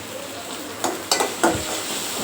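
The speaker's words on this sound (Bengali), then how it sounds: "আর এই যে মরিচ ভাজি করতেছি ভর্তার জন্য" Chili peppers fry in a pan for bharta with a steady close sizzle, broken by a few sharp spatula scrapes and stirring clatters.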